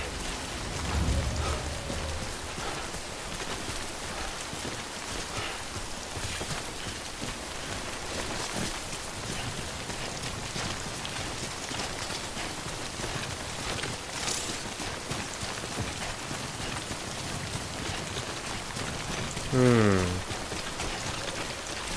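Heavy rain in the video game Death Stranding pours as a steady, dense hiss that runs unbroken for the whole stretch, with a short, louder burst of sound near the end.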